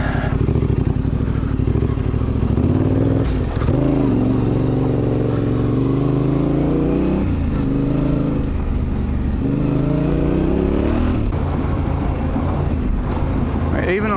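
Yamaha Ténéré 700 motorcycle engine rumbles close while riding, revs rising and falling in waves over heavy wind buffeting, with a voice faintly underneath.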